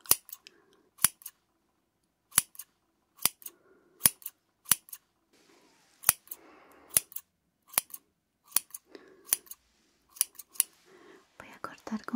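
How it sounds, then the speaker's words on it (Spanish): Scissors snip hair in a barbershop with sharp, close, crisp cuts at an uneven rhythm, separated by quiet pauses and soft rustling, with whispered speech between the snips. "Voy a cortar con mucho cuidado alrededor"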